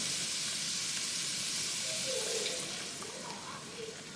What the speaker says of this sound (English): we're gonna start off with 1 cup of heavy whipping cream